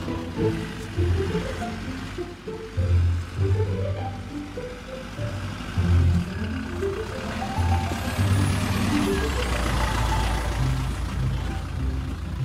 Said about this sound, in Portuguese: O caminhão basculante vai até o canteiro de obras para realizar as tarefas.